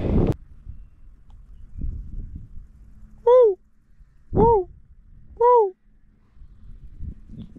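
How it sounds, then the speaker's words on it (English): Three short, whistling, downward-bending calls from a dik-dik antelope sound about a second apart, loud against a quiet outdoor background with faint rustling and footsteps. "That's the sound of a dikdik."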